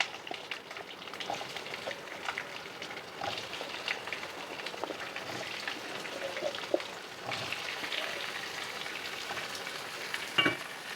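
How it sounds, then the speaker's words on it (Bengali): Pumpkin chunks frying in mustard oil with cumin, bay leaf and dried chili, a soft rain-like sizzle with faint stirring clatter, steady and fairly quiet. "মিষ্টি কুমড়াটা আমি কিছুক্ষণ ভেজে নিব, একটু রং চেঞ্জ হওয়া আগ পর্যন্ত।"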